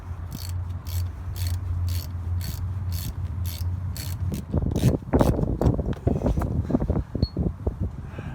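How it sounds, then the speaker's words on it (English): A 14 mm ratchet wrench clicks in a quick, regular run of ratcheting as brake caliper slider pins are loosened. The clicking then gives way to looser metallic rattling and handling noises up close. "These are your slider pins here, so you can just loosen these off little by little till they're out."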